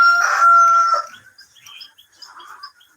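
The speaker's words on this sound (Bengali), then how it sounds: "এখানে আমাদের কিছু দেশি মুরগির কালেকশন রাখা হয়েছে" A desi rooster on a farm gives one loud, close crow lasting about a second, followed by softer scattered clucks and chirps from other hens.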